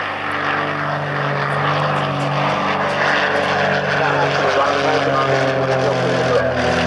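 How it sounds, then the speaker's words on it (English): Propeller aerobatic aircraft fly a formation routine with barrel rolls at the 1992 RAF Coningsby airshow, a loud continuous engine drone with shifting pitch as a commentator talks over a public address. "As he does so, Nigel Lamb barrel rolls around the formation"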